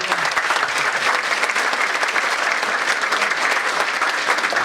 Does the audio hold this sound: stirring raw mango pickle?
no